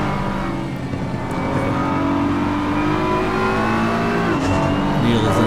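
A close pack of GT3 race cars, including a BMW and an Aston Martin, runs nose to tail at Paul Ricard in a sim racing game: a steady, loud, layered engine drone with rising and falling revs and no talk.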